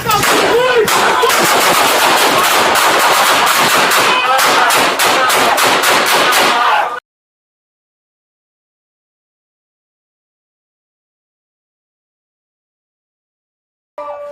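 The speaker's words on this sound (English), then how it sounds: "Shots fired!" A gunman fires rapidly at police officers during an encounter in Hamilton, recorded on an officer's bodycam. Loud rapid bursts of gunfire fill about seven seconds and then stop abruptly into silence.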